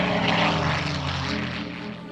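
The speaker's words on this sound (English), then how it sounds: "They quickly mastered flying French planes like the WW2 D520 fighter." A WW2 French D520 fighter plane's propeller engine drones in a steady, throbbing roar with a strong low harmonic buzz, close and loud, slowly easing slightly toward the end with no voices.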